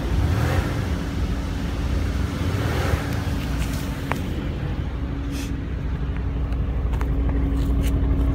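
Light revs from the engine of a 2017 Mercedes-AMG C63 S Cabriolet with its top down, a steady low rumble that swells slightly in a few gentle blips, close by and with no talking.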